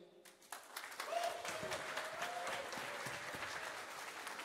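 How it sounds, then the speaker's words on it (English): An audience at a Waves coin presentation event applauds a speaker; clapping swells in after a brief quiet start and continues as a soft, somewhat distant, steady patter. "please great applause once again"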